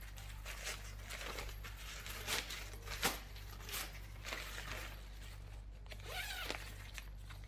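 A zipper on a large sports bag is pulled open close by, in a series of short scratchy runs of rasping that come in uneven bursts over a low steady hum.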